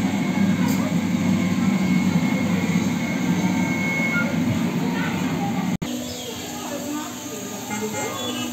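Low, steady rumble and rattle of a small amusement-park train ride at Legoland Discovery Berlin, continuous throughout, with a sharp click partway through and people talking over it nearby.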